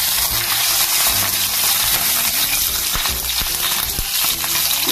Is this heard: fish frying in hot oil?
yes